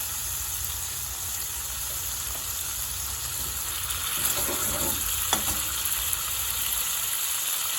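Spices sizzling in hot oil in a pan for a BIR-style chicken curry: a soft, steady frying hiss with a few faint clinks and scrapes of stirring, heard alone.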